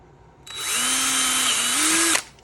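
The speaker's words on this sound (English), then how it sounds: "I'm going to angle the hole. And the way I do that, nothing special, drill." A power drill whirs steadily for under two seconds, its pitch rising slightly near the end before cutting off.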